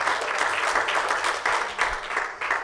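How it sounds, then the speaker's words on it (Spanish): Congregation applauding during a Sunday church service, a dense, steady wash of many hands clapping together for the Lord, fairly close and continuous throughout. "Porque podemos darle el aplauso al Señor."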